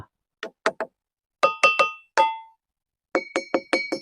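Hand taps on a carved stone pillar in a Pandya-era temple in Madurai ring out as a series of sharp, bell-like knocks in small clusters with brief pauses, each giving a short metallic ring-tone that decays quickly; no talk.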